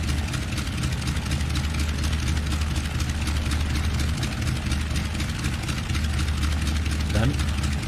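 De Havilland Beaver floatplane piston engine idling while shutting down after landing, a steady close low throbbing rumble that runs unbroken, with a brief dip near the end.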